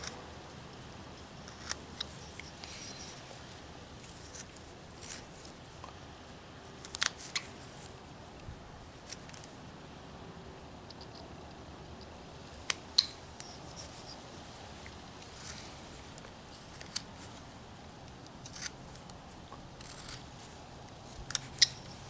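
Knife whittling wood into a beginner's Christmas ornament: quiet scraping and slicing cuts with occasional sharp clicks and snaps spread irregularly over a low, near-silent background.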